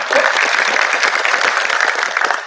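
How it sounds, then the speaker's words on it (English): An audience at a presentation bursts into steady applause, many hands clapping densely and evenly throughout, fairly loud and close. "Don't clap unless you really mean it."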